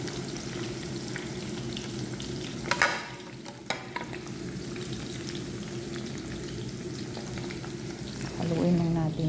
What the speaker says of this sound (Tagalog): saka din natin prito yung tuyo